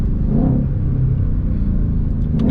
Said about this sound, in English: You just downshifting, or are you actually revving it? I'm downshifting.